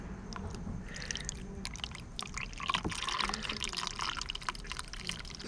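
Radiator fluid being poured into a Honda S2000 radiator, a quiet close trickle with irregular drips and gurgles as the liquid runs in, faint and without speech.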